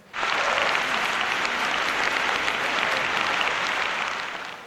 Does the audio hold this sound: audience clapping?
yes